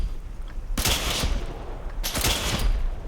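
Two loud, sharp shots from Mica's Railway Rifle in Fallout 4, each a bright crack with a brief metallic ring-out, about a second and a half apart over low background noise.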